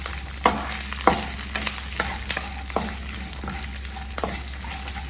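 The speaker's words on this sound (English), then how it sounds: "Now you have to go on cooking till the chana dal and the urad dal" Chana dal and urad dal frying in a pan for South Indian lemon rice, a steady close sizzle broken by several sharp scraping stirs of a spoon, no voices.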